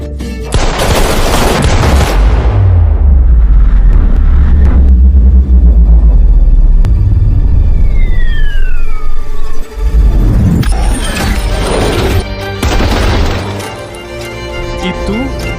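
A superpower shockwave blast in a drama scene lands as a loud, close boom with crackling debris and rumble, followed by a whooshing swept effect and a second burst, with voices in between.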